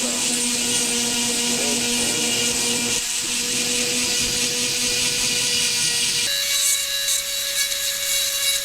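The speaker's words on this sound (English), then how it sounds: "This is a fine diamond tip on this Dremel device." A corded Dremel rotary tool fitted with a fine diamond tip grinds and cleans raised metal letters on a Wilton C2 vise, a steady high-pitched whine that drops to a lower tone near the end, close and continuous with no talk.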